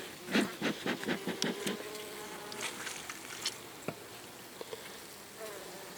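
Honeybees buzz close by at log hives during honey harvesting, with quick droning passes up front that thin out into a quieter, scattered hum.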